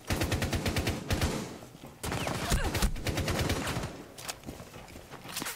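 Rapid automatic gunfire in Rainbow Six Siege rattles in dense, loud bursts, with a short pause before another stretch of fire and faint footsteps underneath.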